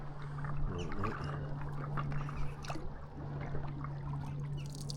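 Rhythmic splashes and water swirl from a lone sculler rowing a boat on the River Dee, steady oar strokes against a constant low hum, fairly close and moderately loud.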